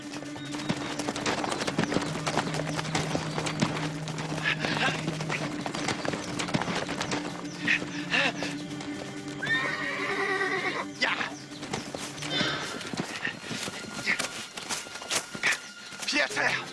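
Horses whinny and hooves clatter at a quick pace, with shouting voices over the commotion.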